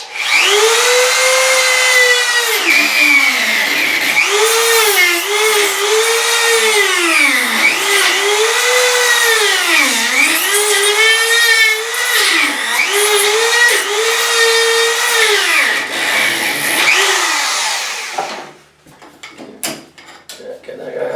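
A rotary tool with a diamond wheel cuts shower tile in a master bathroom, giving a loud, continuous high whine that repeatedly dips and rises in pitch as the blade loads and frees, then stops near the end.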